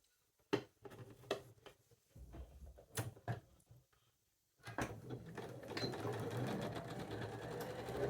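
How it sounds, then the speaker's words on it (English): A domestic sewing machine stitches quilt rows, first with scattered clicks and handling thuds, then after a short pause settling into a steady, close, continuous whirring run. "And back over to the sewing machine."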